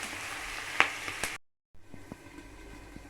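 Green chillies hit a frying pan for chilli paneer and are stirred, giving a soft sizzle with a few sharp utensil clicks, a brief dead gap, then quieter stirring taps.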